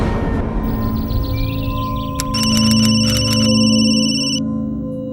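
A telephone rings with a repeated electronic trill of short bursts, loud and close, over a steady background tone, with no talk during the ring.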